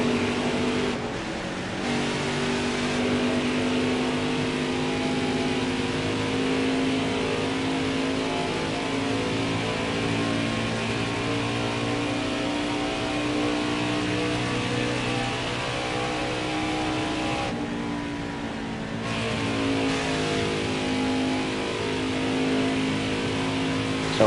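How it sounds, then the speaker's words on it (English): Craftsman Truck Series race trucks roar around Homestead-Miami Speedway, a sustained loud drone of V8 engines rising and falling in pitch as the pack laps, with no break in the noise. "green flag, and the first playoff race for the Craftsman Truck Series is underway from the Homestead Miami Speedway"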